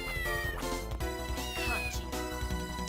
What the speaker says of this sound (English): There's a kitty.